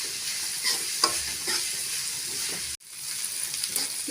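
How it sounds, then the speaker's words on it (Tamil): Sliced onions and two sprigs of curry leaves stirred while frying in a pan for egg curry kulambu, a steady close sizzle with soft scraping strokes and a brief break near the end. "கலந்து விட்டுக்கலாம்."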